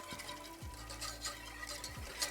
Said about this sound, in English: now it is time to add the half and half, and then we'll whisk this together until it thickens a bit